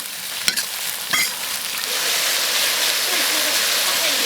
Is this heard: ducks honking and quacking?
no